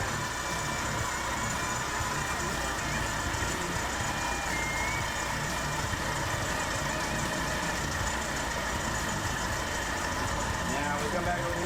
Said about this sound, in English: idle jumped up to 900, 890, so we need to lower it back down.